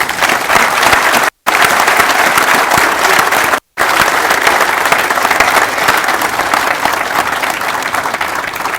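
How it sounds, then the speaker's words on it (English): A large, loud crowd applauds graduates at a Perry Technical Institute graduation ceremony, with dense sustained clapping broken twice by brief dropouts, then continuing strongly. "So let's give them a big round of applause."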